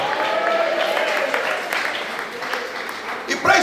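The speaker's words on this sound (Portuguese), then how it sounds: "Bata palmas e dá glória." Clapping from a church congregation during a Portuguese-language sermon, a fairly steady patter of many hands mixed with voices and crowd noise, rising slightly near the end.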